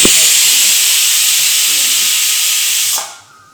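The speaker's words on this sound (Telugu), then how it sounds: "ఒక విజిల్ వచ్చింది కదండి" A pressure cooker whistle shrieks steadily with loud, sharp hissing steam while bisi bele bath cooks, then cuts off abruptly near the end, leaving quiet room tone.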